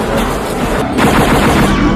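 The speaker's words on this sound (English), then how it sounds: "He's firing while on one of the rides?" Gunfire from a movie scene with a man shooting from an amusement park ride, a loud, continuous rattle of rapid automatic shots throughout.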